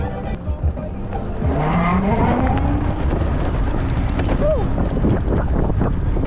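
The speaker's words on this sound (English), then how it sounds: "the turbo sound on it is beautiful, isn't it?" A road-going go-kart drives at speed with its turbo audible, producing a rising engine tone and a brief whistling sweep over heavy wind buffeting, close and loud; a voice is faintly present.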